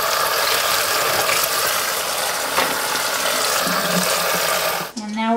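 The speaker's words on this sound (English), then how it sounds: "I'm gonna take this and rinse it with cold water" Raw chicken being rinsed under cold running water in a kitchen sink, a loud, steady gush of tap water that cuts off abruptly near the end.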